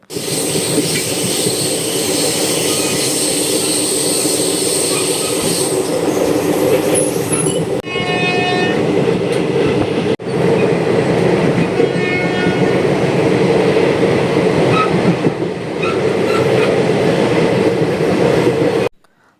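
Passenger train on the Nagore–Nagapattinam route, heard from on board: a loud, steady rumble of wheels on track with rattling carriages, brief squeals and rhythmic clatter, and a short abrupt shift partway through.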